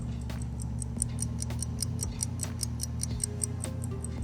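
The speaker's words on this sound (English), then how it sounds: "hold it over the microphone so you can just hear the ticking of a 117-year-old engine" A 117-year-old mechanical watch held right over a microphone, steady fast ticking, several light ticks per second, close and crisp over a constant low electrical hum.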